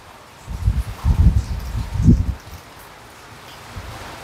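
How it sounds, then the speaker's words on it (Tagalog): Strong typhoon wind gusting through trees, three loud rustling surges in quick succession, then a quieter steady whoosh as the gusts die down; no speech. "Malakas kasi ang hangin talaga."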